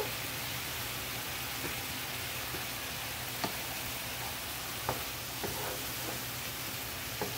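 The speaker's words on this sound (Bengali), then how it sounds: "মাছগুলো দিয়ে একটু নাড়াচাড়া করবো" Pieces of parse fish being stirred in a frying pan for a fish curry, giving a soft, continuous sizzle with a few light taps and scrapes of the utensil.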